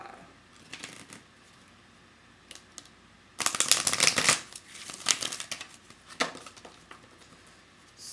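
Tarot and oracle cards are shuffled and handled close up on a table, with a few soft taps early on, then a dense burst of riffling and scattered flicks and slaps.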